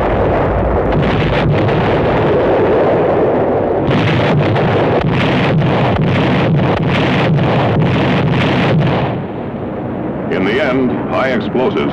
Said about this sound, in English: Heavy and well-directed naval gunfire played an important part in holding back the enemy tide.